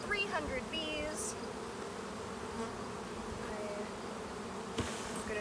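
A dense, steady buzz from many honeybees being shaken from a hive in a beeyard, continuous throughout at moderate loudness, with a brief sharp knock near the end.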